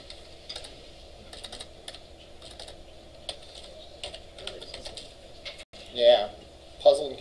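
Computer keyboard typing during a web database class: clusters of quick key clicks run steadily, with a voice cutting in near the end.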